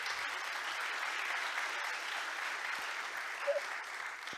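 Audience applause at a retail business event, a steady dense wash of many hands clapping at moderate distance, sustained evenly throughout with no talk over it.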